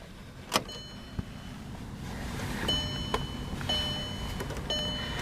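A 2007 Volkswagen Rabbit 2.5 with a five-speed and 80,000 miles: a few sharp clicks, then the engine fires and settles into a steady, fairly quiet idle nearby, with no talking.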